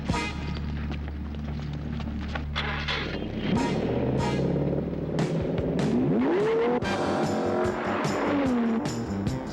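Engine roaring and tires squealing in a car chase, a hot buggy in pursuit, with loud sustained revving, rising pitch sweeps and repeated sharp skid squeals close by.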